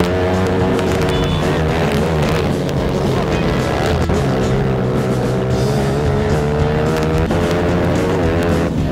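Cheap motorsport race cars roar around a track, engines droning loudly and rising and falling in pitch as they rev through the laps, with several cars overlapping.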